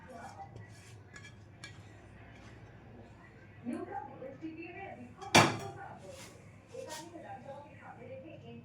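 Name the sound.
cheesy paneer masala being poured into a bowl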